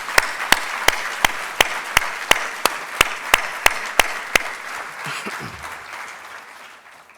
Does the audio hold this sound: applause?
yes